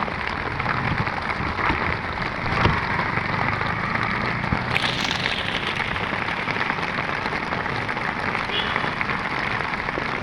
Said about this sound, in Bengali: মামা বৃষ্টির মাঝে যে রিক্সা চালাইতেছেন কিরকম লাগে?